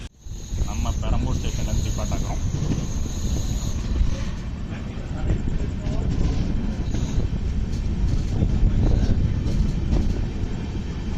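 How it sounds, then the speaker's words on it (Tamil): An Amrit Bharat train with non-AC coaches pulls out of Perambur station, its loud, steady rumble and rattle of carriages rolling close by while a voice talks over it. "ட்ரெயினும் பார்த்தீங்கன்னா பெரம்பூர்லேருந்து டிபார்ச்சர் ஆயிடுச்சுங்க"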